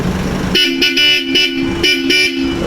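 Bosch Europa aftermarket horns on a Nissan Navara blast loud and close in several short bursts with a brief pause, a bright, piercing electric honk.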